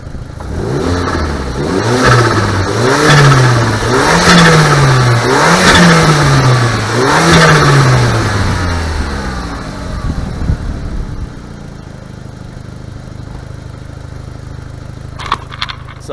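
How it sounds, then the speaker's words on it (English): A turbocharged car engine revs up and down in several loud, close, rhythmic pulls, with turbo whoosh and diverter valve flutter as the throttle closes, then drops back to a steady idle. "So I'm gonna rev the car up and you'll be able to hear the diverter valve now."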